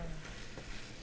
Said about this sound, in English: now we're gonna stir everything up until it's all mixed up and evenly distributed